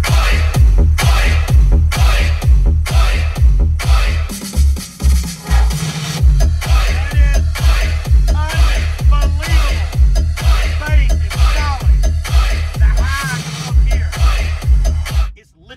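Heavy bass pounds from a truck's car audio system running JL Audio subwoofers on a 1500-watt JL Audio mono block amplifier, with a 400-watt four-channel amp for mids and highs, loud and rhythmic throughout, nearly saturating the recording.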